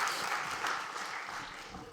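Conference audience at a learning innovation arena clapping for a speaker, a short burst of crowd applause that stays fairly even and moderately loud before tapering slightly.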